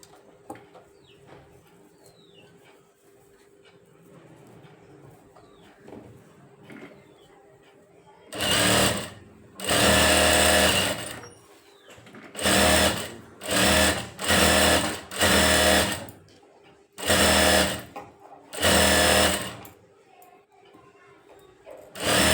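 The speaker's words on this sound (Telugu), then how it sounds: "లైనింగ్ మీద ఎడ్జ్ కుట్టేసుకొచ్చాం కదా ఇప్పుడు చుట్టూ కుట్టేసి రావాలి" A sewing machine stitches around the edge of a blouse lining in loud, close bursts of whirring of varying length with short pauses between, after a quieter stretch of low background noise.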